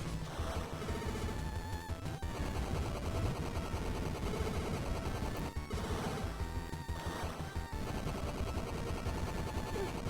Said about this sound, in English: Yeah, it just continuously spits fire.